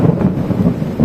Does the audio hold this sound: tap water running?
no